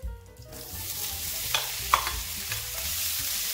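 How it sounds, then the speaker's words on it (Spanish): Onion frying in a pan over lowered heat, a soft continuous sizzle with a few sharp clinks and scrapes of stirring scattered through, no talking. "en la misma sartén, bajamos un poquito el fuego y vamos a echar la cebolla"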